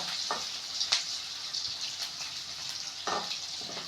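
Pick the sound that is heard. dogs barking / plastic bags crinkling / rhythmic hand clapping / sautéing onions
sautéing onions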